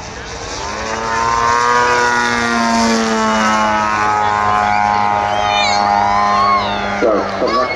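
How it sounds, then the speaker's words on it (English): A radio-controlled model plane's engine and propeller drone steadily at high pitch, the tone holding then wavering slightly near the end, loud and close. "here he is half holding it on the power of that engine and propeller"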